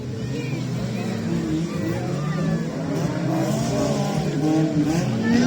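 Stock cars racing on a wet track at a Saturday heat in Princé, engines droning and revving steadily with continuous loud motor noise throughout, while a commentator talks over the action.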